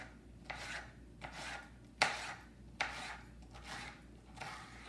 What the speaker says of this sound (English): And then I take all my little pieces and I just cut them just like that.